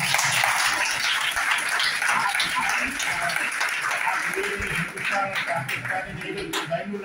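Audience applause at a student symposium in a college hall, many hands clapping in a dense, lively patter that thins and grows more scattered toward the end, with faint voices underneath.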